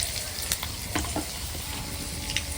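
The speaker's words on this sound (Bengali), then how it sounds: "তেলে আমি সামান্য রসুন কুচি দিয়ে দিচ্ছি আর সামান্য আদা কুচি দিয়ে দিচ্ছি" Chopped garlic and ginger fry in hot oil with a steady, bright sizzle and scattered crackling pops, close and continuous with no talking.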